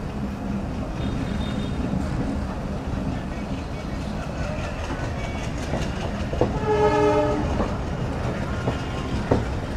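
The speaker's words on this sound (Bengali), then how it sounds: "আমার অত্যন্ত পছন্দ এই 65 সিরিজের লোকোমোটিভের হর্ন।" A 65-series diesel locomotive horn blares once, a loud harmonic blast partway through, over the steady rumble and clatter of the moving Betna Express train, with faint voices.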